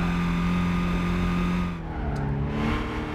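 Race car engine in the video game Gran Turismo 5, a loud sustained roar that holds high, then drops in pitch as the car shifts or lifts off, with no voices.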